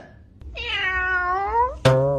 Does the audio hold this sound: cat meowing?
yes